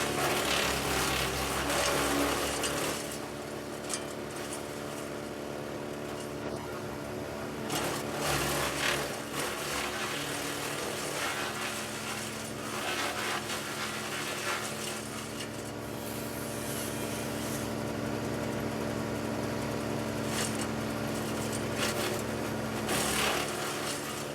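A tractor-driven wood chipper with flywheel cutters runs loud and steady, its engine drone constant and unslowed as branches are fed through, with brief bursts of chipping noise breaking over the continuous mechanical roar.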